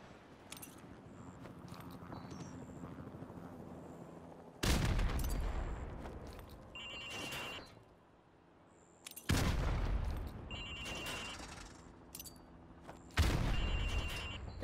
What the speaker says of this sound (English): Now throw a grenade into windows 2,